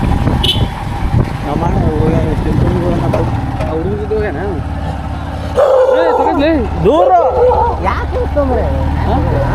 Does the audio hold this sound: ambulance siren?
no